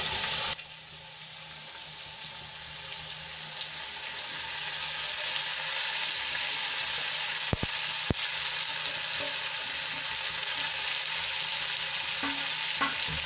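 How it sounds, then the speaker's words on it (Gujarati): Chopped onions and finely cut radish greens sizzle loudly in hot oil with garlic for a radish-greens dish, a steady broadband frying hiss swelling after a brief quiet start, with a couple of sharp clinks near the middle. "લસણ સંતળાઈ જાય એટલે એમાં આપણે કાંદા અને પાન જે ઝીણા સમારી લીધા છે એ ઉમેરી દઈશું"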